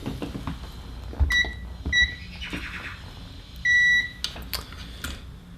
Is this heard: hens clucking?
no